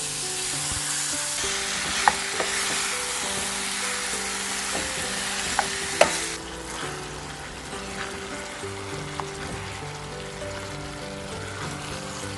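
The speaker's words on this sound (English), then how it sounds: "Cook marinated pork on medium to high heat until pork is well done." Marinated pork for Korean stir-fried pork sizzling in a hot pan over medium-high heat, a continuous close frying hiss broken by a few sharp utensil clinks and taps, no voices.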